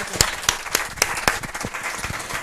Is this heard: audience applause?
yes